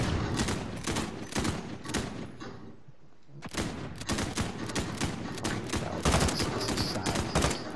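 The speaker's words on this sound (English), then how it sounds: "I sniped him with a fucking LMG" Rapid light-machine-gun fire in Call of Duty Warzone rattles out in long loud bursts, broken by a brief near-silent gap before the shooting resumes and keeps going in sustained volleys.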